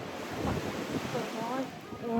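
Ocean waves wash on a beach amid wind buffeting the microphone, a steady rushing surf with faint voices nearby.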